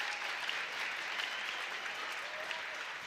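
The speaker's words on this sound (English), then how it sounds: "The crowd applauds the hustle." A college softball crowd at an Oklahoma vs Louisiana game applauds after a catch and tag-up play, steady, dense clapping carried at moderate distance for a few seconds.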